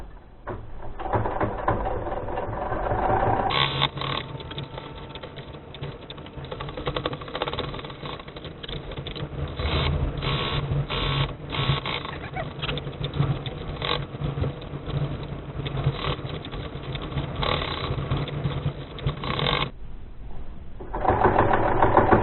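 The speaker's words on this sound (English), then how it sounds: "So I'm going to stitch from that opening around the edge." A sewing machine stitches continuously around the edge of a fabric face mask, a steady close whirring hum running nearly throughout with brief slowdowns and a short pause near the end.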